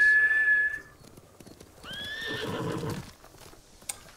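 A horse in the video game Ghost of Tsushima gives a loud whinny with a rising then falling tone, then snorts and shuffles its hooves nearby before things quiet down.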